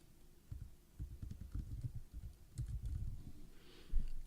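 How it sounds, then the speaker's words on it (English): Rapid keystrokes on a computer keyboard as a password is entered, soft irregular clicks in short bursts, close and fairly quiet, with no voices. "punch in the password that I just created"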